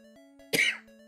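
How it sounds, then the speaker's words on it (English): A single sharp cough bursts out close and loud, a short harsh rasp standing alone against a quiet background tone. "Coughing fit."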